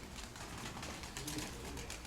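Soft, low pigeon cooing under a steady wash of outdoor noise, faint and continuous.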